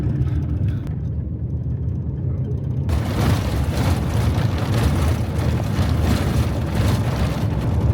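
A bus in Aswan, Egypt, dusty inside, rumbles along a dark road while making a U-turn mid-street; a low engine drone runs throughout, with broadband rattling and noise surging in after a few seconds.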